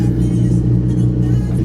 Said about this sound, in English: So much turbo noises.